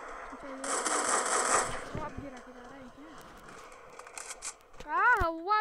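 Gunfire in a battle royale video game, a dense burst of rapid shots followed by a few scattered single shots, heard under excited talking from players.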